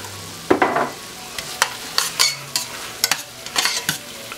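Roughly chopped garlic cloves frying in a pan for chicken paprikash, with a loud, close spoon scraping and tapping in quick irregular bursts over a light sizzle.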